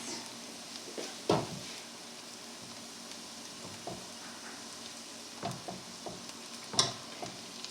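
Butter and oil browning in a pan for Salisbury steak: a faint, steady sizzle with occasional scraping and clinks from stirring, no voices.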